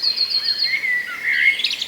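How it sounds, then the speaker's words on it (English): Blackbird giving its alarm call among a dawn chorus, a run of sharp high chirps and warbling notes, fairly close and clear over faint background hiss. "Blackbird alarm calling."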